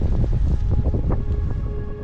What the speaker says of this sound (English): the wind is really starting to pick up here